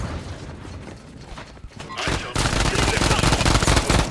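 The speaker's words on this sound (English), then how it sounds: "Loading fresh mag" Mechanical clicks and clacks of a fresh magazine being reloaded in a first-person shooter, building into a louder burst of rattling gunfire and mechanism noise toward the end.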